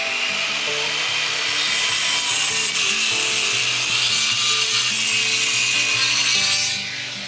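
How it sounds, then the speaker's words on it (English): Small circular saw cutting through wooden framing, a loud, steady whining, rasping cut lasting about seven seconds before tapering off at the end, close by with no talk. "I'm using my small circular saw to make a couple of strategic cuts in the framing."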